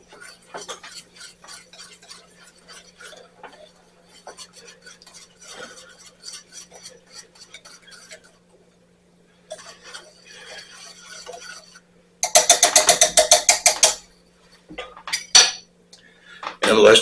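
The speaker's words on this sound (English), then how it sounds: "We're going to want to keep whisking it." Watermelon BBQ sauce whisked in a pot on the stove, with scraping and clinking of the whisk against metal, quieter stirring at first, then a loud burst of rapid rhythmic whisking near the end.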